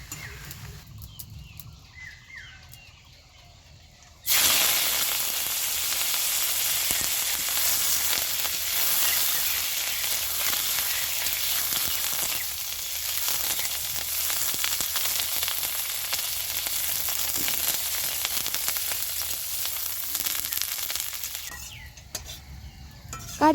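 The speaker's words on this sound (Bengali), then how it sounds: "এরপরে আমি ভেজে নেব কারি পাতাগুলো।" Curry leaves hit hot oil and erupt into a loud, dense crackling sizzle that holds steady for most of the time before fading, with a few utensil clinks around it.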